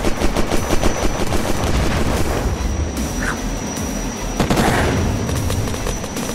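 Dense, continuous video-game gunfire in Unturned, with rapid automatic bursts rattling throughout and a few sharper sniper-like cracks standing out, loud and close with no pause.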